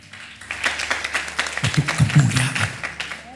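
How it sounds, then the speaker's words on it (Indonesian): A church congregation claps during a sermon, a scattered burst of hand claps that builds in the second half, while a voice speaks briefly over it. "Tepuk tangan."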